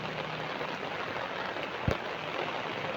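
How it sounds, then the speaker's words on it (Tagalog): Heavy rain falls in a steady, dense hiss, with one brief low thump near the end and no talk. "Ang hirap kasi ang lakas po ng ulan"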